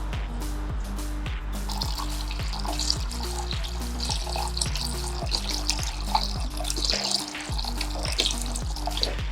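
Coolant pours steadily out of a BMW E36 engine during removal, a continuous close splashing trickle with a low steady hum underneath and scattered drips, no voices.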